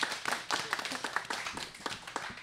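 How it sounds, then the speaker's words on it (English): Studio audience at a live radio theatre show clapping, a faint, sparse patter of a few hands with uneven, scattered claps rather than a full roar. "Let's give a round of applause"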